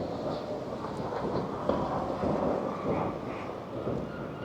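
A steady rumble of rail traffic and wind noise fills an outdoor space in front of Glasgow Queen Street station, continuous and moderately loud, with no clear voices.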